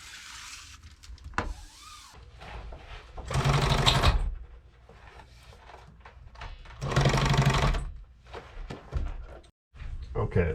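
A sewing machine stitches the seam of a boat sail in two loud, sustained bursts of rapid whirring, with quieter handling noises and some faint movement between the runs.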